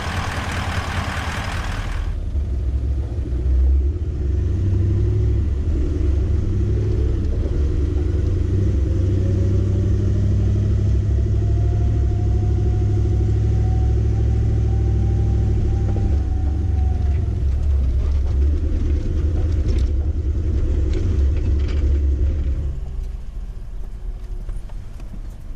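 Toyota LandCruiser 200 4x4 driving over a rutted sandy bush track: a long, steady, heavy engine and tyre rumble heard from inside the cab, with a slowly rising whine and occasional knocks and creaks as it crosses ruts.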